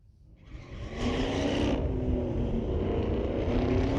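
A Dodge Challenger and a Chevrolet Camaro launch down a drag strip at street-legal drags, engines swelling from quiet into a sustained loud roar that holds steady as the cars pull away.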